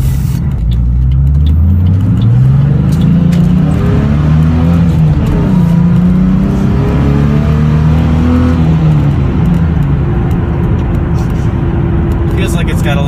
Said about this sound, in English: I can hear the intake.